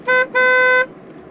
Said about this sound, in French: Qui est-ce qui klaxonne comme ça?